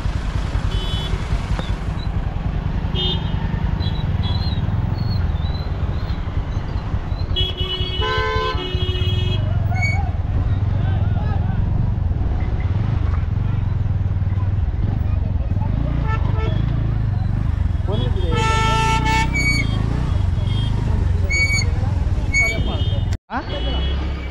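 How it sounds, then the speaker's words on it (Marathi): A traffic jam of tourist vehicles in Malvan, heard from a motorbike: a constant engine drone and idling rumble with repeated horn toots and honks, some near and some farther off, and voices talking throughout. "बघू शकता पर्यटकांनी ट्रॅफिक जाम केलेलं आहे"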